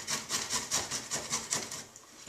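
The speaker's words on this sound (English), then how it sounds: "a nice way to do it too is just to use a cheese grater and grate it up" Fresh unpeeled ginger is rubbed against a cheese grater in quick, even rasping strokes, about ten close scrapes in a steady rhythm that slows near the end.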